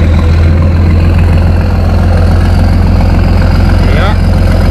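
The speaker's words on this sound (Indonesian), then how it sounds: "mengerung, meraung-raung bunyi kapalnya" A heavy passenger ship engine roars steadily while docking at port, with a deep, throbbing low rumble, loud and close, while a voice talks faintly over it.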